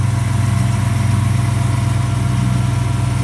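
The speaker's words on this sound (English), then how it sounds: "Do a little video of the engine running here." A 1958 Chevrolet big-window pickup truck engine idles steadily up close, a smooth, even low rumble with a regular pulsing beat and no voices.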